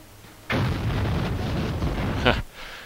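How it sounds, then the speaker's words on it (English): Grenades go off in a video game as a loud, rumbling blast that holds for about two seconds, with a sharper burst near its end before it cuts away. "Oh, grenades, they kill you."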